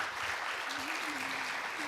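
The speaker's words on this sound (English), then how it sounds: "Please give Ambassador Benavides a big applause of" An audience at an academic peace forum marking Kim Dae-jung's centennial applauds Ambassador Benavides. The clapping is steady and full, with a faint voice briefly heard through it.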